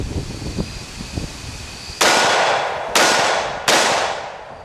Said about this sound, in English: Here we go, 3 shots.